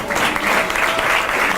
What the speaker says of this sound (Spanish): Fuerte aplauso para Jordán